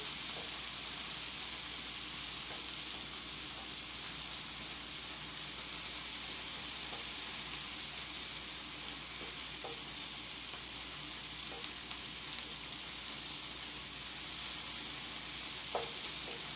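Seared meat for a shish kabob or gyro pot roast sizzles in a pan after being flipped, a steady hiss that holds throughout with occasional faint clicks and pops.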